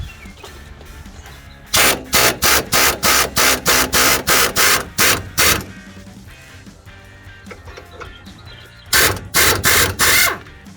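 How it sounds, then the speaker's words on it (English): An impact wrench removes hardware on a 2007-2018 Silverado 1500 during a lift kit install, letting off one long run of rapid, loud hammering bursts, then a pause and a second shorter run, close and with no talking. "I'm gonna use an impact wrench."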